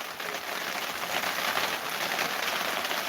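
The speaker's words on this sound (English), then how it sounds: "Yes, I can hear the rain." Heavy rain pounds steadily on a surface outdoors, a dense, continuous hiss with a constant patter and no letup, close and loud throughout.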